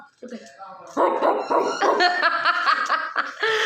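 A human voice imitates a dog, producing a quick run of loud, close barks, yips and whimpering sounds in a repeated, uneven rhythm.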